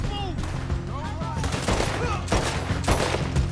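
Gunshots in the video game Red Dead Redemption 2, several sharp, loud cracks spread irregularly over a busy background, with voices in between.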